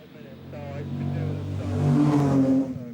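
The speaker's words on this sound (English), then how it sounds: "Well goes the rear-engine Maserati birdcage of Matteo Panini." A restored Scuderia Serenissima rear-engine Maserati Birdcage race car drives past at the Goodwood Festival of Speed, its engine note climbing and swelling to a peak before easing off, with a voice partly overlapping.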